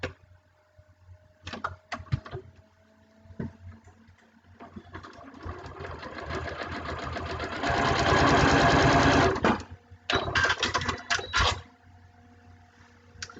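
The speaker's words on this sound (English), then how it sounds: "back to the sewing machine. So I'm going to sew along that line between the 2 and the 3." A sewing machine runs in bursts, stitching steadily and loudly for several seconds with brief stops and restarts, mechanical whirring close by, sewing along a line on foundation paper piecing for a pincushion.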